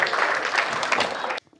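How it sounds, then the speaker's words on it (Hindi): An audience at a Hindi comic poetry gathering claps in a brief, dense burst of applause that stops abruptly, leaving near silence. "जोरदार तालियां।"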